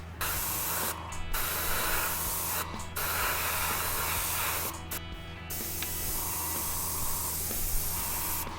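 An airbrush fed from a small siphon cup sprays a mix of pearl white, pearl blue and fluorescent blue paint onto a prop mask, giving close, steady hissing bursts broken by brief pauses.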